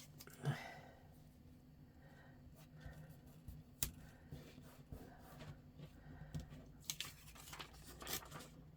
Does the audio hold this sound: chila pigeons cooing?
no